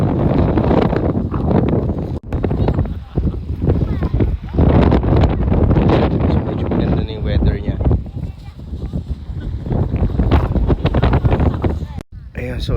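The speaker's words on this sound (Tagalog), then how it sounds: "Bumaba na kami sa bundok kasi medyo lumalakas na yung hangin." Strong wind on a mountainside roars and buffets the microphone in heavy, continuous gusts, with voices talking beneath the rumble.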